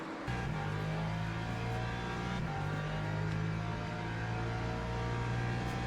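Lexus race car in Le Mans Ultimate at Spa, engine droning loud and steady at high revs with a brief shift in pitch midway, continuous throughout.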